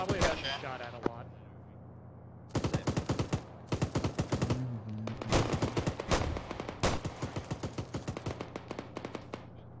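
Rapid automatic bursts fire in a military video game, loud and close, in several long strings of quick cracks separated by short gaps, with a voice talking over the shooting.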